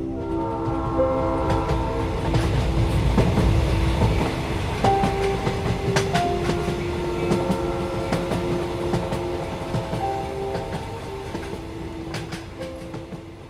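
A train runs steadily from Howrah station in a Bengali crime story, its rumble and rail clatter continuous and fairly loud, with sustained horn-like tones sounding through, no voices over it.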